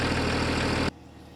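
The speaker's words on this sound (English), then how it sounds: "it was able to start the 5 Series with the 3-liter engine without previous warm-up, and is still going" A BMW 5 Series with a 3-liter engine idles steadily and loudly right after a jump start from a dead battery, a dense low rumble that cuts off abruptly to near quiet.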